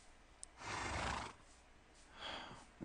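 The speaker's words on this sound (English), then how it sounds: "All these horses and stuff." Horses neighing in the Minecraft video game, two drawn-out breathy whinnies about a second apart, fairly loud and close, with a faint click between them.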